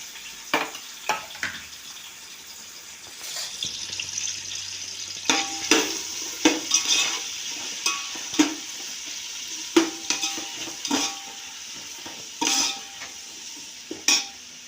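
Onions with salt frying in a pan: a soft background sizzle punctuated by repeated scraping stirs and clinks of a utensil against the pan, close by and without speech.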